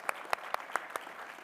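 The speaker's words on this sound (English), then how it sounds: "yeah, applause." Audience at a gala fundraising event giving a brief, sparse round of applause, a few distinct claps standing out over a soft background of room noise and scattered clapping, fairly faint.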